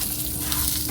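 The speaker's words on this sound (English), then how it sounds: "And I keep on stirring" A brief, loud burst of frying: food crackles and hisses in a pan under continuous stirring, with no voices.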